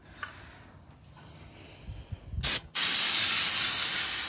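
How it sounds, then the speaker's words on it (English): A short burst of brake parts cleaner spray on a Honda Civic's front brakes, then a loud continuous aerosol hiss that keeps going steadily to the end, preceded by a few soft clicks and rubbing sounds. "get your brake parts cleaner, spray this down"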